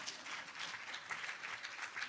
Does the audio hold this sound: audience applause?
yes